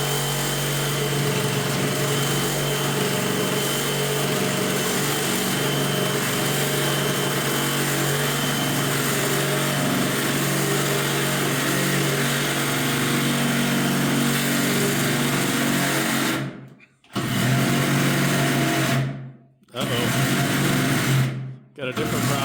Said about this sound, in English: if we had a longer blade on the reciprocating saw, it would have been one pass